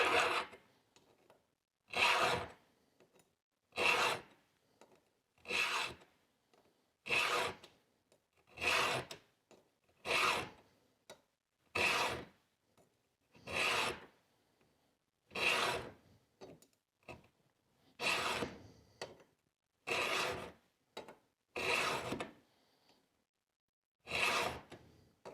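A hand file rasps across chainsaw chain teeth during sharpening for a ripping chain, with about a dozen short, evenly spaced strokes separated by brief pauses, fairly faint and with no talking.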